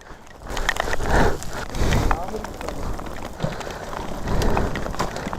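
Rain pours during a motorcycle ride in traffic, a loud, steady hiss of drops striking surfaces mixed with low rumbling wind and road noise, swelling and easing without a break.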